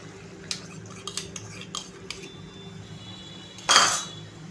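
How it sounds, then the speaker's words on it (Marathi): A utensil stirs a besan (gram flour) mixture with spinach in a pan, giving several soft scraping taps, then a louder, longer scrape near the end over a quiet background. "आता छान असं हे बेसन एकदा खालून मस्त असं ढवळून घ्यायचं आहे, म्हणजे खाली तळाशी लागला असेल तर"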